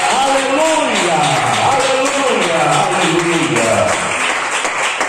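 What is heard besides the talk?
church congregation clapping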